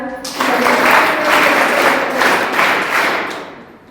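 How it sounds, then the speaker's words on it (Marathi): An indoor audience of mothers at a school Women's Day parents' gathering claps for the school, a dense, steady burst of applause lasting several seconds before tapering off. "आपण त्यासाठी ना शाळेसाठी जोरदार टाळ्या वाजूया."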